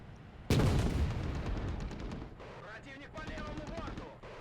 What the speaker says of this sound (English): Oh, look, they used the tank.